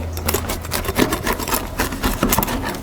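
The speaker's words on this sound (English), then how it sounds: "Let's just get you a little of that scraping sound." Knife or cutter scraping across the crispy crust of an unleavened bread pizza, a steady close-up dry rasping that pulses in short strokes for nearly three seconds with no talk.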